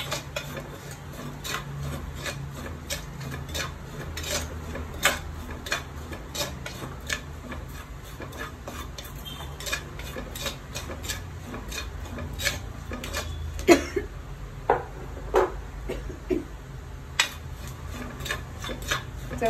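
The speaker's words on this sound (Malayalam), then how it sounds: "തേങ്ങയും കൂടെ ഇട്ട് ഒന്ന് ഇളക്കി മാറ്റാം" Grated coconut stirred in a pan while making a fish curry: soft, irregular ticks and scrapes of a utensil against the pan, with a few sharper knocks, fairly quiet throughout.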